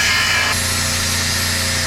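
A power tool cuts through a sheet-metal floor panel on a 4x4 Ford, a loud, steady, harsh grinding whine that continues throughout, slightly shifting in pitch after the first half second.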